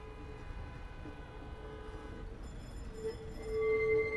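Maintenance tram rolling past during a tram parade, its steady rumble joined by a sustained tonal squeal or horn near the end, heard from close by without talk.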